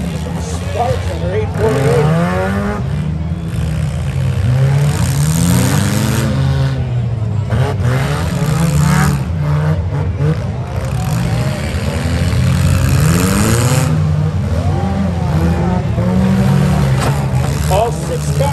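Several cars in a fall-fair demolition derby rev and roar in repeated rising and falling bursts, loud and close, with a crowd and a commentator talking over the engines.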